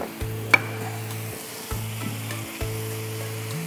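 Turmeric, chilli and cumin powders sizzle in a pan with a steady frying hiss and occasional stirring scrapes and clinks, while a low electrical hum starts and stops in the background.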